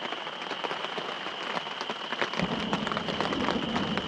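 Steady rain falls during a thunderstorm at a campsite, a dense, even hiss of drops pattering on surfaces nearby that thickens and grows slightly louder partway through, with no voices.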